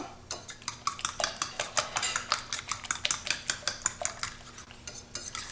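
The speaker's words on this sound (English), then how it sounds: "so now I'm just going to hand mix this." A utensil stirs and beats batter by hand in a bowl, making a steady run of rhythmic clinks and scrapes against the bowl, close and fairly quiet, with no talking.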